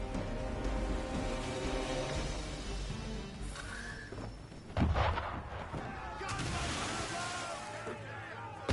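Cannon and gunfire aimed at a ship on the water in Assassin's Creed 3 Remastered: distant booming shots with sloshing waves, one sharper blast standing out midway, and voices speaking over it.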